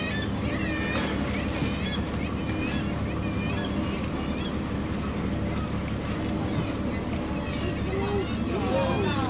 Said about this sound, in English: any of the birds you hear are seagulls and murres